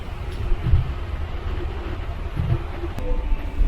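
A monorail train passes at Expo '70 Commemorative Park in Osaka, making a continuous low, rumbling roar that swells slightly toward the end, with no talking.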